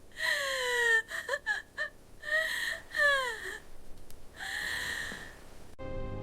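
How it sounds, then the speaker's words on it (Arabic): A woman crying, with long wavering wails and broken whimpering sobs in uneven bursts, close and fairly loud, breaking off briefly between cries. "مالك يا هاد المرأة تبكي؟"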